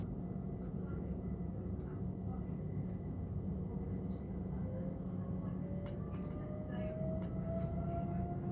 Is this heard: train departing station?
yes